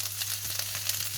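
Chicken 65 pieces hit hot oil in a pan and sizzle loudly, a steady dense crackle of frying with small spits and pops throughout, close up and with no voices.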